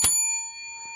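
A single bright bell ding strikes at the start and rings on as a sustained metallic tone that slowly fades, loud and close with nothing else around it.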